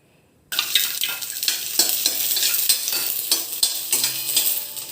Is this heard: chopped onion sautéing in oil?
yes